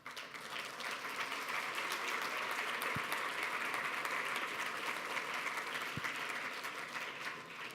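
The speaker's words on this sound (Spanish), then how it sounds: "Así que démosle un aplauso a la Orquesta Jalel." Sustained audience applause for an orchestra at a church gathering, steady and dense throughout with no speech over it.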